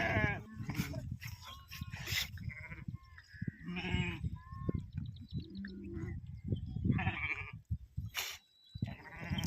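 Several sheep bleat in wavering calls, overlapping and fairly close, with farmyard background noise throughout.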